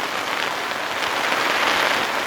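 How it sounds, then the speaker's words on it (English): Hail falling during severe weather at a camp with a tarp, a dense, steady hiss of pelting ice on surfaces that holds loud and even throughout, with no voices. "Not sure if you can see this, but it's actually hailing at the moment."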